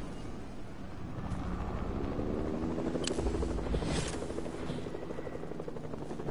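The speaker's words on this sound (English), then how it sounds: "Grab a helicopter and I'll meet you down there." A helicopter in a video game drones with a steady rotor chop through the whole stretch, loud and close, with wind-like rushing layered over it.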